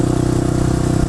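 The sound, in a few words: Suzuki DR 650 supermoto single-cylinder engine idling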